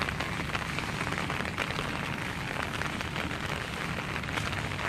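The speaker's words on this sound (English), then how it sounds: "It's pouring rain" Heavy rain pours steadily outdoors in Hialeah, a dense continuous hiss of drops striking surfaces with no letup, loud and close throughout.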